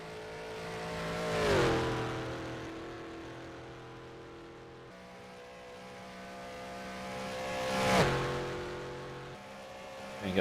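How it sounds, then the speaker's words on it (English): A race car going flat out at the Isle of Man Time Trial, its engine note swelling loudly as it passes, fading, then roaring past again in a second pass, alone without talk. "Now he's going flat out along here in a car."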